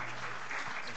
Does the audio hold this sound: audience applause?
yes